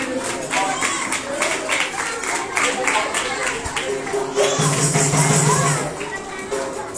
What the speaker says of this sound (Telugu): పిల్లలు అందరూ క్లాప్స్ కొట్టండి.